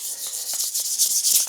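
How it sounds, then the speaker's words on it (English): Sandpaper lightly scuffs a painted bike frame, a soft continuous hiss with faint rhythmic rubbing strokes, close and alone. "loosely sanding it to prep it for the future coats."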